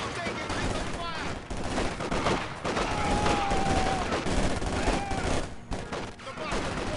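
Battle sounds from the video game Company of Heroes 2 on a hard-difficulty mission: sustained volleys of rifle and machine-gun fire crackle steadily, with shouted soldier voices mixed into the din.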